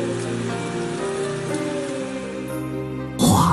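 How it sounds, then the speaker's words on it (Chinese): Steady wind-driven rain falls through the night, a continuous hiss and patter held at an even level beneath sustained musical tones, swelling briefly louder at the very end. "夜来风雨声"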